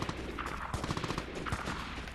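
An M249 machine gun in a video game fires rapid, continuous bursts of closely spaced shots, loud and near throughout.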